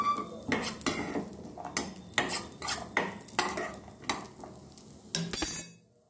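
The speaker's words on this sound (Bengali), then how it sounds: "গ্যাসের ফ্লেম লো ফ্লেমে রেখে আমি কাজু কিশমিশগুলো একটু ভেজে নেব" Cashews and raisins frying in ghee in a pan over a low gas flame, with repeated sharp metallic scrapes and clinks of a spoon stirring against the pan, irregular and close, over a faint sizzle.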